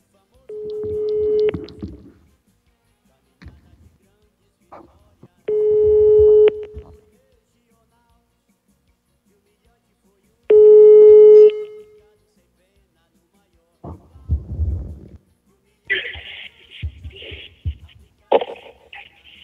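A telephone line sounds three long, evenly spaced ringing tones with silent gaps between them, followed by a few short clicks and a brief burst of talk on the line as the call connects.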